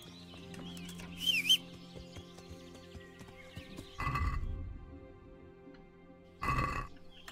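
A horse in the medieval video game Kingdom Come: Deliverance snorts and whinnies over a low ambient drone, with hoof thuds and short bursts of rumbling movement, moderately loud and nearby.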